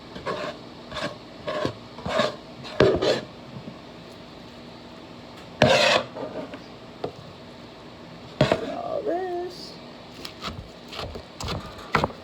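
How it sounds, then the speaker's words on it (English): A mango is grated off its core by hand in a home kitchen. Irregular raspy scraping strokes come in short bursts with pauses, and there is some clatter and faint background noise. "mango I have to grate a lot of times because it's the only way to get it off the core."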